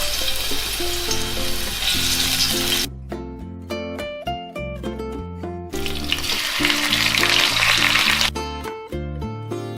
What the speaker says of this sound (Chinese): 然后把姜放下来煎一下。